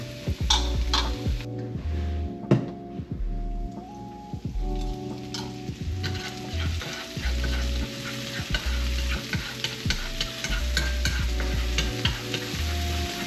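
Aromatics stir-fried in a home pan over moderate heat, a steady close sizzle with repeated scraping and stirring strokes of a utensil against the pan, no voices.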